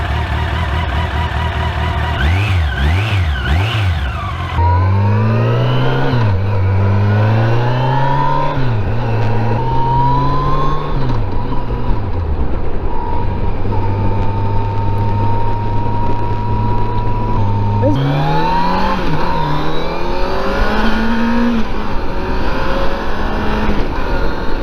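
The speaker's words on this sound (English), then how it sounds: "When it comes to engine sound, this might be something that the Super Tenere does not beat the FJR on." A Yamaha motorcycle engine, an FJR1300 or Super Tenere, revs up and down in rising and falling sweeps, then settles into steady loud running before climbing again, close to the rider.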